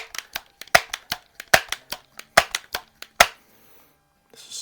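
A Crosman 760 and a Barra 1866 pump air gun fire pellets at a target, heard as a quick run of about a dozen sharp, close cracks and taps in an irregular rhythm, followed by quiet and a faint rustle.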